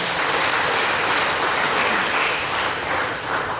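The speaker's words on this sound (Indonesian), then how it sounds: "Kita beri tepuk tangan lagi." Audience applause at the 2021 closing of trading at the Indonesia Stock Exchange, a steady, even burst of many hands clapping, moderately loud and continuous for a few seconds.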